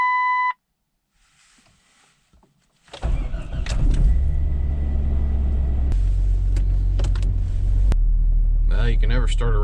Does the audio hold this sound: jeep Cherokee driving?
yes